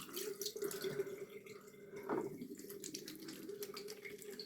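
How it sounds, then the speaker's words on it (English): Hands are washed under a running tap in a sink during an evening skincare routine: a steady, quiet stream of water with light splashes and one brief louder splash partway through, and no one speaking. "I'm gonna wash my hands now"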